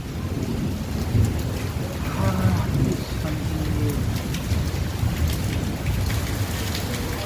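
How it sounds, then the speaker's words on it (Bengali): Heavy rain pours down in a dense, constant roar, with a low rumble of thunder rolling beneath it throughout. "কি জোর পানি হচ্ছে"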